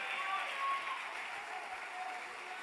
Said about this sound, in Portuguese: Você pode aplaudir a Ele.